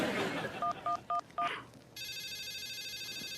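A phone call is dialed: four quick keypad tones beep in succession, then a continuous ringing tone follows. Faint background noise runs underneath.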